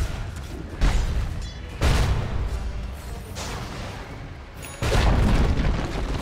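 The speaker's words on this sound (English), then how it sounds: "Dire's top tower has fallen" Several heavy booming blasts as a tower is destroyed in Dota 2, three loud impacts spaced a second or two apart, each decaying into a rumbling tail.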